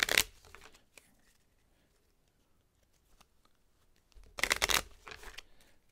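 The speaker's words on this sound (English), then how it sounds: "Shuffle the discard pile and remove half of these" A discard pile of cards from a board game is shuffled by hand, with a short riffle at the start, a quiet pause with faint handling, and then a second, longer burst of shuffling.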